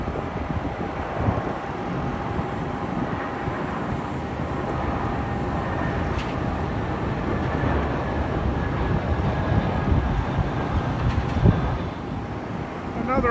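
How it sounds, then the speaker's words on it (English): A British Airways A319 airliner arrives at Heathrow from Prague, a continuous broad jet roar mixed with wind buffeting that swells slightly and stays fairly loud throughout. "British Airways A319. That's arriving at Heathrow from Prague."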